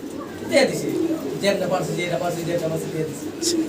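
Pigeons cooing at a crowded pigeon market in Bangladesh, repeated soft coos under someone talking and general market bustle.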